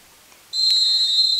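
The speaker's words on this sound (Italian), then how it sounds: "subito c'è invece un fischio perché c'è stato un errore nella battuta dell'Heracles" A referee's whistle at a football match between Heracles and Sporting Terracina gives one long, loud, steady blast that starts abruptly and holds for about a second.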